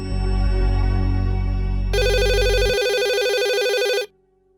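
Telephone ringing during a call: a steady electronic ring tone sounds loud and close, a second, brighter repeating ringtone joins partway, and both cut off abruptly near the end.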